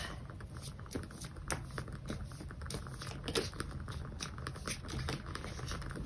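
Tarot cards are shuffled by hand in a steady patter of soft, close riffling clicks that runs for several seconds with no talk.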